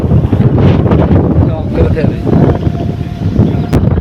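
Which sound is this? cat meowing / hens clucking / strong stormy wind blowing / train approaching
strong stormy wind blowing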